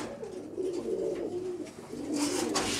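Black tail pigeons in a loft give soft, low cooing against a steady background hum, with faint rustling, close and fairly quiet.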